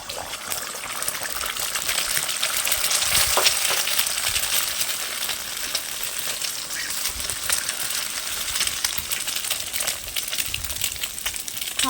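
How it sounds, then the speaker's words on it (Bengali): Eggs frying in hot oil for egg bhujia crackle and hiss in a dense, continuous sizzle, close and fairly loud, with scattered pops and no talk. "তেল গরম হয়ে গেলে আমি দিয়ে দেবো ডিমগুলো, ভেজে নেব"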